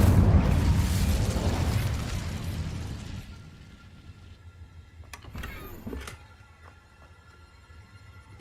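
Incendio fire spell cast in Hogwarts Legacy: a loud, broad whooshing burst of flame that fades after about three seconds, leaving a quieter tail with a few brief crackles and clicks.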